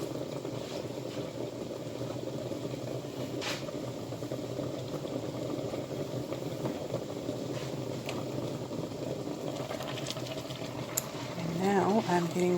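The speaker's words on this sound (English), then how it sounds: "And I'm just stirring, making sure" A spoon stirs homemade spaghetti sauce in a pot with a little added water, producing a steady low bubbling and scraping that runs throughout. A brief clatter comes near the end.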